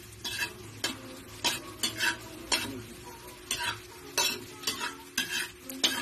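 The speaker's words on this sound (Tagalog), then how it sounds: "Hintayin lang natin maluto ang bawang." Garlic frying in a pan for sinangag garlic rice: a continuous close sizzle with frequent sharp scraping strokes of a spatula stirring the garlic, in quick irregular succession, no voices.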